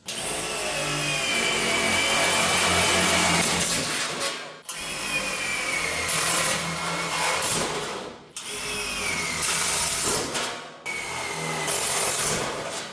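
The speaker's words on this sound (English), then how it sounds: "guess how many holes I drill in this?" A power drill grinds through a steel floor panel of a 1964 Plymouth Fury in several long bursts, each a harsh continuous whine with brief pauses between holes.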